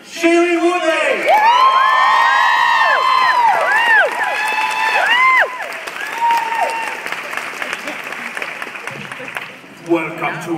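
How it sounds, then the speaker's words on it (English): A huge crowd in Hall H at San Diego Comic Con cheers and applauds for the Divergent panel. Loud, high-pitched screams and whoops rise over dense clapping, then fade into continuing applause. "please, a huge round of applause, our protagonist, Shailene Woodley!"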